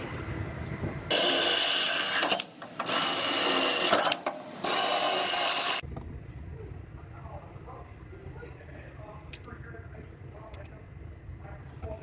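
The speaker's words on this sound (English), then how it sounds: "I'm going to drill out these 4 spot welds" A drill whines loudly in several bursts with short pauses while drilling out spot welds on a Toyota, then stops, leaving low shop background noise.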